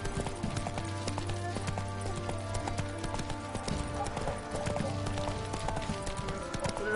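Horse hooves clop steadily on ground in The Witcher 3: Wild Hunt, a rhythmic, continuous gait close by, with low game ambience beneath and no talking.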